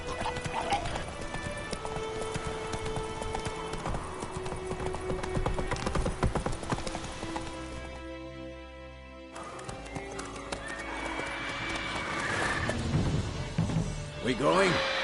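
Roach the horse from The Witcher on PS5 gallops with steady clip-clopping hooves and lets out neighs, amid busy game sounds and voices, with a brief dip to near silence midway before the action resumes.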